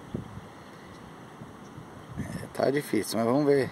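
Strong wind blows over a choppy lagoon during kayak fishing, a steady rushing buffet on the microphone that runs under someone talking in the second half.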